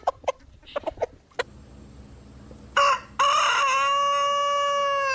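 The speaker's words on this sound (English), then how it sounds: "Roosters, for example, make what they call locator calls" A few soft clucks and taps, then a loud rooster crow rings out close by, long and drawn out, with no one talking.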